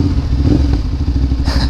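A CFMOTO 450SR motorcycle engine runs loud and close on its first ride, a steady throbbing rumble with rapid pulsing and a brief rise in pitch near the end.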